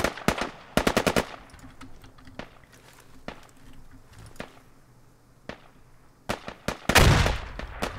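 AK-74 automatic gunfire in the military shooter game Squad: loud close bursts of rapid shots in quick strings, scattered single cracks between them, and a heavy burst near the end.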